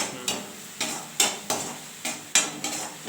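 Soya gravy with ginger, garlic and mint paste sautéed in a pan: steady scraping spatula strokes about every half second over a faint sizzle, close up, with no talk.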